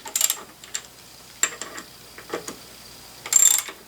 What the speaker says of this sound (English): I am now tightening the two bolts that hold this piece on.